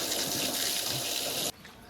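A steady, loud hiss of a pressure washer spraying water continuously onto a car, then abruptly cutting to a quieter wash for the final half second.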